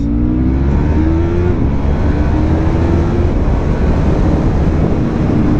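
A 2017 Yamaha MT-03 motorcycle at full throttle, its engine note climbing steadily in pitch as it pulls hard, heard loud and close from the rider's position with heavy wind rush over it and no talk.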